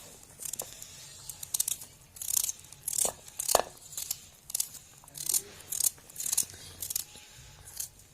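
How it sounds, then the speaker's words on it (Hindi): A knife cuts finely through a carrot on a board, producing a series of crisp, fairly quiet slicing crunches in an uneven rhythm, about a dozen strokes close by. "गाजर के अंदर इस तरह से हमने कट लगा लेने हैं।"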